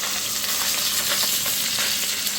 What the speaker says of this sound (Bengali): মোরলা মাছ একদিকে ভাজা হয়ে গেছে